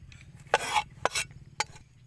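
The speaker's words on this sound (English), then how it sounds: "So now we start to mix our pork noodle and some ingredients first." A utensil stirs a pork and noodle mixture with garlic, sugar and salt, giving three distinct scraping, clinking strokes against the bowl, close up and separated by short quiet gaps.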